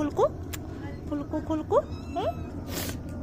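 A cat with an injured leg meows several times in short, close, rising cries, a few weaker mews between them, against quiet background noise.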